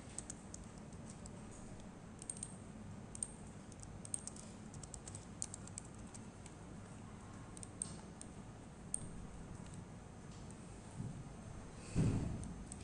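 Someone types on a computer keyboard during a Zend Framework 2 seminar, a run of soft, quick key clicks at a steady working pace, faint and close, with a louder bump near the end.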